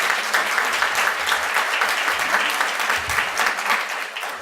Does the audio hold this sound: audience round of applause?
yes